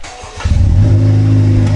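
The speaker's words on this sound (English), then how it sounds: "I'm gonna hear this exhaust for the first time" A Honda Civic FL5 fitted with a Magnaflow exhaust starts up and revs, a loud, close, deep bassy engine note that rises sharply then holds a steady throaty drone.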